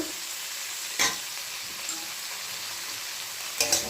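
Spring onions fry in a spiced tomato-ginger masala with a steady soft sizzle, and two sharp stirring scrapes stand out clearly near the start and end, close by.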